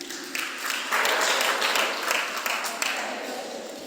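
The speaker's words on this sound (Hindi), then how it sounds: "एक बार अच्छे से ताली बजाएं उनके लिए।" An audience claps at a Jain religious discourse. The applause is steady, dense and even, lasting about four seconds.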